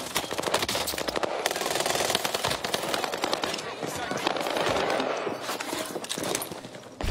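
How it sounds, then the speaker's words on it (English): Rapid automatic gunfire from a Warzone Rebirth Island match, dense bursts of shots running steadily throughout, with game sounds and some voice chat mixed in. "They're shooting my body, they're so good."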